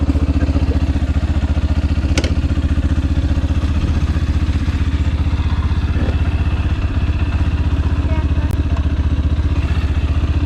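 A Yamaha FZS motorcycle engine runs steadily and loudly up close, a constant throbbing mid-range drone with slight clatter that never drops off.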